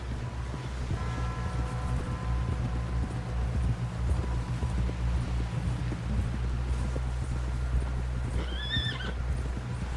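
Horse hooves clip-clop steadily beneath a constant low rumble, with a brief whinny near the end, in the video game Red Dead Redemption 2.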